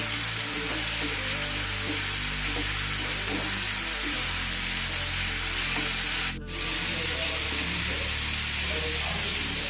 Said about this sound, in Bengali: এবার ধীরে ধীরে মশলাটাকে কষিয়ে নিতে হবে যতক্ষণ না পর্যন্ত মশলার গা থেকে তেল ছেড়ে না আসে